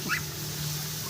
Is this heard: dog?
yes